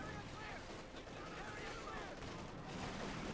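Battle sounds from the video game Company of Heroes 2, with anti-tank bazooka shots and dense, continuous gunfire and rumbling under a talking commentator.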